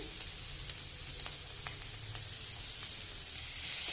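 Onion and chili frying in a hot pan, a constant bright hissing sizzle that stays loud and even throughout, close up with occasional faint stirring clicks and no speech.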